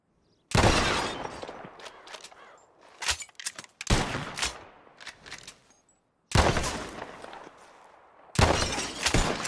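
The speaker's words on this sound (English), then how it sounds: "Whoever shoots more of these bottles wins" Pistol shots crack and glass bottles shatter in a Red Dead Redemption 2 shooting contest, in several loud bursts separated by short pauses, with no voices.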